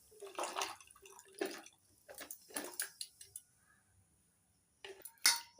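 Jackfruit seeds and water are poured from a bottle into a pot, giving quiet splashing gushes and rattling clinks in several short bursts, with near-silent gaps between them.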